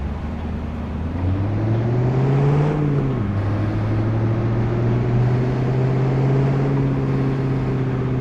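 Truck engine in Truck and Logistics Sim runs at a low idle, then revs up in a rising, loud drone that dips briefly and settles into a steady rumble.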